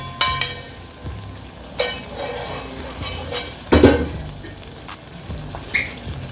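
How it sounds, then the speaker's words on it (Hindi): Hot tadka poured over and stirred into sarson ka saag in a home kitchen, giving a brief sizzle followed by scraping stirs and clinks of a spoon against the pot, with a few sharp knocks spread across the clip. "तो हम अब जो साग हमने रखा है उसके ऊपर तड़के को डालेंगे इस तरह से"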